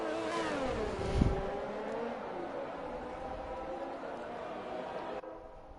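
An F1 race car in F1 2021 warms its tyres during qualifying at the Netherlands Grand Prix, its engine whining and shifting pitch steadily, with a brief thump, under commentary.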